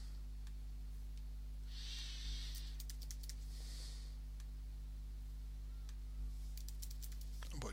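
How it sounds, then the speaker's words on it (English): Someone types into a survey text box on a computer keyboard: faint, scattered key clicks in short bursts over a steady low electrical hum. "we have a text box here where we can type something in."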